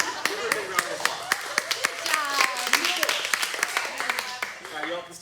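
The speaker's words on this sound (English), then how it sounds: "Give her a big round of applause." Applause from an audience at a training session: distinct, fairly close hand claps in a quick uneven rhythm, with voices and cheering mixed through the clapping.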